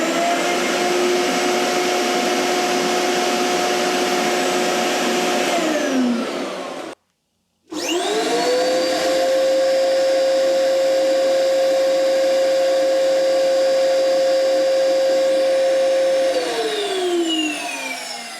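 A CTSDE50 50-litre workshop dust extractor motor runs with a loud whining drone, spins down, cuts to silence briefly, then a second run starts up with a rising whine, holds steady and winds down.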